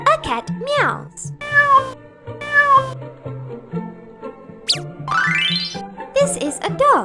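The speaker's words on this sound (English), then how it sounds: "A cat meows." A cat meows repeatedly in a series of drawn-out, rising and falling cries, loud and close, with short pauses between calls and no talking over them.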